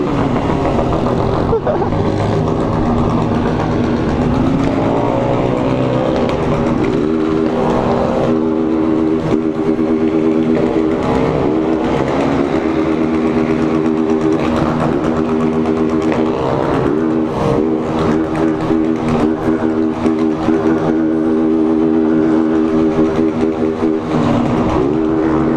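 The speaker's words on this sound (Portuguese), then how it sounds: "Rapaziada, olha o tanto de moto." A large pack of motorcycles, more than a hundred, rumbles and revs close by on a street, a loud continuous drone of engines with rising throttle bursts that never lets up.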